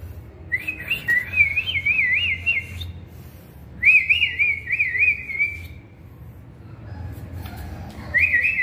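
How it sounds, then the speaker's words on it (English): Tiny birds chirp indoors in three bright, warbling bursts of rapid high trills, separated by short pauses over a low background hum. "We have some little tiny birds."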